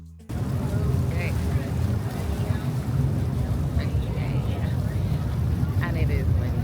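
A ferry engine drones steadily under strong wind buffeting the microphone on water near Hobart, Tasmania, with faint voices and splashes in the background.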